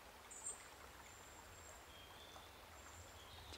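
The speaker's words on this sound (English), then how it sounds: "babbling brook" A small babbling brook flows steadily in the background, a faint continuous wash of water with a soft low rumble, and bird chirps sound now and then over it.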